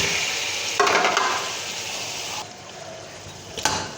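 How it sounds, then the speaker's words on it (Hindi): Potatoes tipped into fried masala in a pot for aloo palak, giving a close wet sizzle and hiss with sudden bursts as the pieces drop in, then settling into a softer crackle before a final jolt. "अब इसमें आलू डाल देंगे।"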